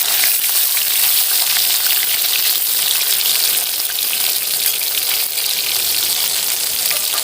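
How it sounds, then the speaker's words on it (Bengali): Pieces of katla fish fry lightly in hot oil, giving a dense, continuous sizzle that stays loud and even throughout, close up, with no talking. "এইভাবে মাছগুলোকে হালকা করে ভেজে নিতে হবে"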